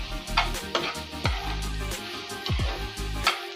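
Grated carrot and egg sizzling in a frying pan on a medium flame, with a steady close hiss and repeated scraping strokes of a spatula stirring the fry, alone without talk.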